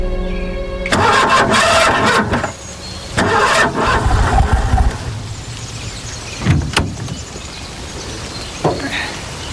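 A car engine repeatedly cranking without catching, flooded after its last use, in several loud bursts of starter grinding separated by short pauses, with a brief later burst near the end.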